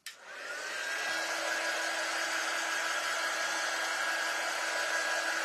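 A hair dryer blows steadily over a freshly printed shirt, starting with a click and rising into a continuous loud whooshing whine that holds evenly throughout, with no talking.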